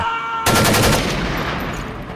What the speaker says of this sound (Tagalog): kasabay ng putok ng baril